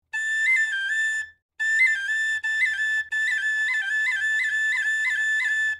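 Tin whistle playing a slow Irish roll ornament, bright clear notes with quick grace-note flicks, one short pause early on, then a continuous phrase, close and alone.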